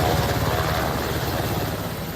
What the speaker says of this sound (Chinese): 直升机为花莲机场起飞